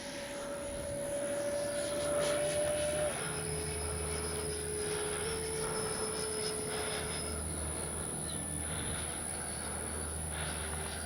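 Freewing 70mm Yak 130 RC jet, an electric ducted-fan model, flying on its maiden flight as a steady whine and rush that holds loud throughout, with a pitch that shifts as it passes.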